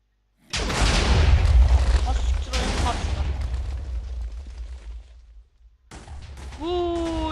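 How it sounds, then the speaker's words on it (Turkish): A loud, deep Minecraft explosion erupts and rumbles on for several seconds before fading, followed by bright synthetic tones like game effects. "çok büyük bir patlama"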